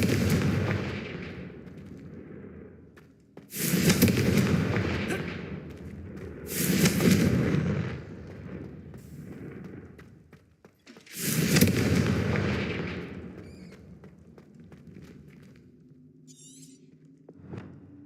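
Confringo fire spell blasts in the video game Hogwarts Legacy: three heavy booming explosions, a few seconds apart, each with a rumbling decay, over a low background ambience.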